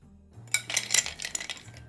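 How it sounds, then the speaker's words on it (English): Ice cubes drop into a serving glass for holiday punch, making a quick run of bright, close clinks and rattles against the glass in a quiet kitchen. "Add a few cubes of ice to the glass."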